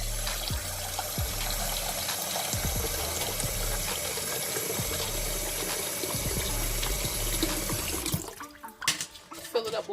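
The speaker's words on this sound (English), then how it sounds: "Fill it up with water." Tap water pours steadily into a sticky candy pot used for gold candy apples, a continuous rushing fill that stops abruptly near the end, followed by a few faint clinks and trickles.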